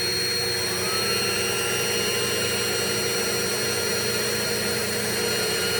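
A Dirt Devil Hand Vac handheld vacuum runs continuously nearby, giving a loud, steady, high-pitched motor whine with an even roar and no speech.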